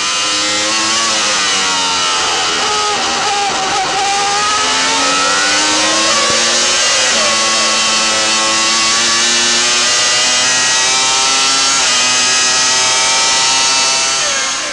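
A Formula One car engine at the 1996 Japanese Grand Prix at Suzuka screams loudly and continuously, its pitch climbing and falling through gear changes as the car sweeps through the S-curves, with no talk.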